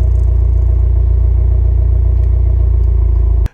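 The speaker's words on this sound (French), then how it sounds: "L'échappement sport sonne bien." Subaru WRX 2022 sport exhaust, a loud steady low rumble with a fast pulsing engine beat that holds throughout and cuts off abruptly at the end.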